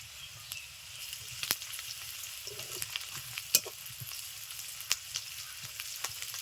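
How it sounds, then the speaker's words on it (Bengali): Chopped onion with crushed ginger and garlic frying in oil, a steady soft sizzle with occasional sharp pops and light stirring clicks, fairly quiet and close. "দিয়ে দিচ্ছি পেঁয়াজ কুচি থেতো করে রাখা আদা ও রসুন"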